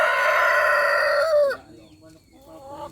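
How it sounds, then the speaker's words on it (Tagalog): A rooster, likely a Rhode Island Red, gives one loud, drawn-out crow close by that ends abruptly, followed by quieter clucking and faint background sounds. "Yung manok ni papa yun"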